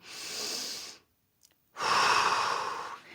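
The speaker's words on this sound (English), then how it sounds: "Inhale. Exhale." Close, steady breathing during a Pilates exercise: one long inhale, a brief pause of silence, then a fuller, louder exhale, with no talking.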